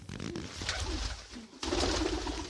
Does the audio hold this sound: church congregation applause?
no